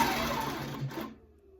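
A computerized quilting machine runs briefly to sew a couple of stitches, giving a short, even mechanical whir that stops abruptly, leaving a faint hum; no talk.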